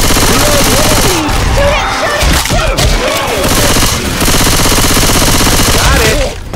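Dense, continuous gunfire in a Left 4 Dead 2 firefight, loud and close, with rapid automatic bursts, thumps and booms throughout and voices calling out over the shooting.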